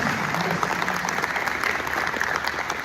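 A crowd claps continuously for Nana Amponsa, a chief of Atebubu municipality, in a steady, loud patter of many hands that carries evenly throughout.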